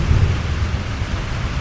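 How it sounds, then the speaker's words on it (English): Heavy rain pours in a steady, dense roar with a deep low rumble beneath it, loud and continuous throughout, with no voices. "It had been raining all day"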